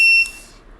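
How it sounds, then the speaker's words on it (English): Buzzer wired into a push button switch circuit gives one short, piercing electronic beep that cuts off after a fraction of a second, loud and close, with no talk. "Here there's a buzzer."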